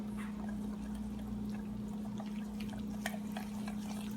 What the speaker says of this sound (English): I'm going to add 1 cup of water to that mixture.